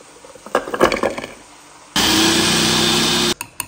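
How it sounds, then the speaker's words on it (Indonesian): A close, loud blender whirs for about a second and a half as it grinds garlic and shallots, a steady buzzing roar that starts and stops abruptly, with light handling knocks and clatter before and after. "Kita akan blender bawang putih dan juga bawang merah."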